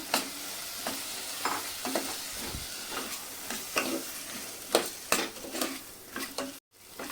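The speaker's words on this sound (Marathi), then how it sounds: "हे परतून घ्यायचे छान" Potatoes being stirred and sautéed in a cashew curry, steady close sizzling broken by repeated scrapes and clinks of a spoon against the pan, with no talk.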